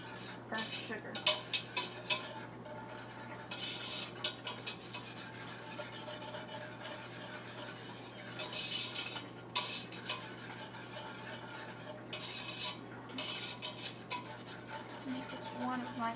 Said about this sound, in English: you need to whisk this constantly to make sure that it doesn't stick